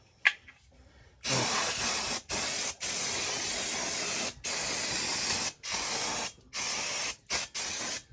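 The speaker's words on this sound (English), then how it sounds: "I'm going to grab some brake clean." Brake cleaner is sprayed onto Honda Element brakes after the old pads are removed, in about nine short hissing bursts separated by brief pauses, close and clear.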